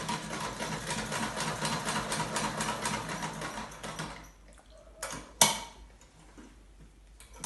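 Sewing machine stitching fabric face masks, a steady rapid mechanical whir for about four seconds, then stopping, leaving a quiet room with a few soft clicks and one sharp tap.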